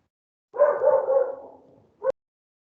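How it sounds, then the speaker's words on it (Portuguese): A dog barks in the background during an online veterinary lecture, one drawn-out bark-whine followed by a short sharp bark, fairly clear against otherwise quiet surroundings. "Tem um cachorro quando aí está atrapalhando"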